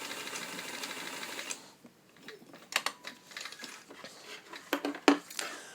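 A vintage steel Kenmore 158.902 sewing machine whirs briefly, stops, then stitches in reverse in short bursts, its needle clattering mechanically up close amid a few sharp clicks.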